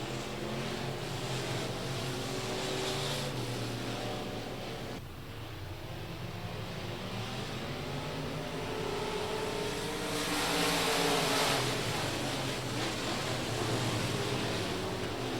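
USRA Limited Mod race cars roaring around a dirt oval, a steady dense engine drone that swells and fades as the pack passes, heard from a distance, with no voices.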